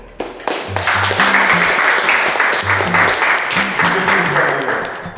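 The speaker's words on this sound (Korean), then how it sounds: "환영의 박수" Loud, dense welcoming applause for a women's volleyball team fills the room steadily from start to finish, with low voices faintly underneath.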